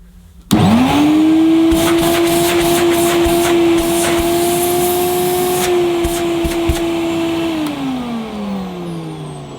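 Hoover Compact S3706 cylinder vacuum cleaner switching on with a loud steady motor whine that holds, then spins down in a long, falling wind-down near the end.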